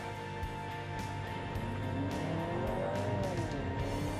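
A Honda CR-V RS e:HEV hybrid accelerating hard in sport mode, its steady engine and motor drone rising in pitch as speed builds, heard from inside the cabin with constant road noise.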